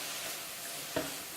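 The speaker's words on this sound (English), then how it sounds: "who likes the sound of sizzling meat?" Steak frying in a pan for a ranch-style bistek dish gives a faint, steady hiss of sizzling meat, with a brief clink or stir near the middle.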